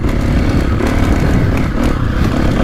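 A KTM 450 SXF Factory Edition motocross bike engine runs loud and close on a dry hard-packed track, a steady buzzing drone with rough vibration and light clatter, no talking.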